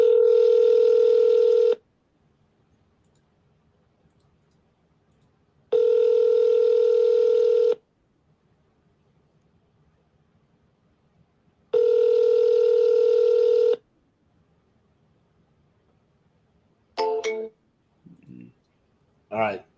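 A telephone call being placed again: three long, loud, evenly spaced ringing tones with silent gaps between them, followed by a few short electronic tones at the end.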